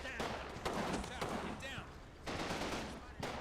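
Machine gun fire in the Combat Mission: Battle for Normandy war game, with rapid bursts of automatic gunfire in several clusters, loud and close, interspersed with other battle noise.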